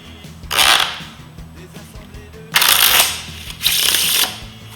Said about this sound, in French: Le spectateur peut naturellement mélanger le jeu.